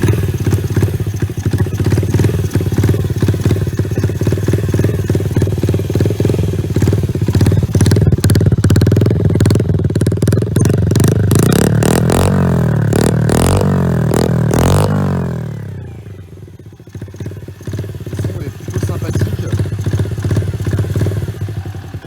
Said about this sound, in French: Tu prends ton kick et tu kicks fort.